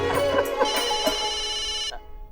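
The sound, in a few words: telephone ringing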